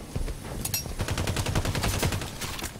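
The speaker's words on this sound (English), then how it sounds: "We got our assault rifle." Automatic assault rifle fire in the video game Halo 5 rattles off in rapid, loud bursts, with sharp repeated shots packed tightly over a busy game soundscape.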